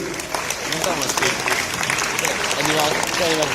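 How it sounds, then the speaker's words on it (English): Audience applause at an international competition event, a dense steady clatter of clapping sustained throughout with voices mixed in underneath. "give applause to him."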